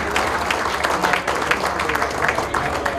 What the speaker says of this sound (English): So we give them a great round of applause for the folks here at the Country Club.